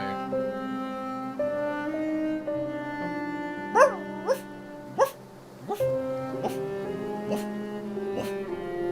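A streamer imitates a dog, letting out a run of sharp, close yapping barks in quick succession, alone against a steady background of game music.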